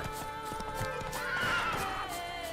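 A horse whinnies loudly and shakily over a steady background hum, with faint hoof clops mixed in, in the video game The Witcher 3: Blood and Wine.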